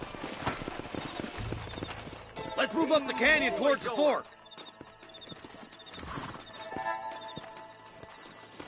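Horses' hooves clip-clop in the video game Red Dead Redemption, steady close hoofbeats with a horse neighing, heard under someone speaking, then continuing alone with softer snorts and hoof sounds.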